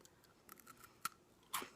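A few quiet, crisp crunches close to the mic, as someone bites into a Turkish sesame cracker stick, with a louder snap near the end.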